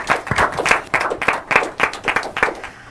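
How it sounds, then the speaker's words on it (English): A small audience at an inter-school quiz and debate competition claps in sharp, distinct bursts, a loose rhythmic round of nearby hands that eases off at the end. "One more time, a warm round of applause."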